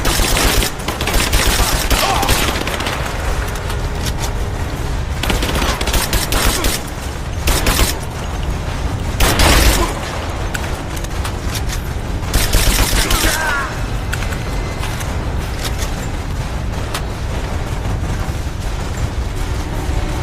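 Gunfire in the video game Rise of the Tomb Raider during a fight with Trinity soldiers, loud repeated bursts of automatic fire and blasts in irregular clusters, with shouted voices mixed in.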